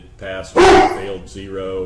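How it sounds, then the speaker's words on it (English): A dog named Humphrey barks loudly at home, one sharp burst standing out with softer yelps around it, while someone talks over it. "That's my dog barking in the background."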